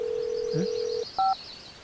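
Telephone dialing tones on a handset calling an ambulance: a long steady dial tone, then a single short keypad beep, heard alone with no talking.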